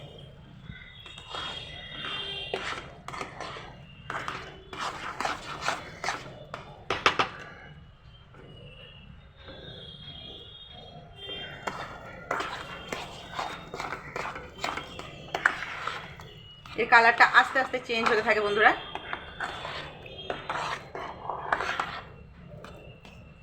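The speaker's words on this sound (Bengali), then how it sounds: "এবার আমি ভালোভাবে তার সাথে নাড়াচাড়া করে নেব।" A spatula scrapes and taps against a kadai while chana dal halwa is stirred, in repeated irregular bursts. Someone talks over parts of it.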